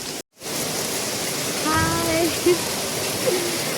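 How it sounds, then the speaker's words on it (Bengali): Dense, steady rain hisses loudly and continuously after a brief dropout, with a few faint tonal chirps and a voice murmuring underneath. "দেখো খুব বৃষ্টি হচ্ছে"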